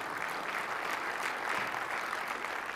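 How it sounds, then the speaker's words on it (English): Steady audience applause at a developer conference session, a dense even wash of many hands clapping at moderate distance throughout, with no talk over it. "See now you can applaud."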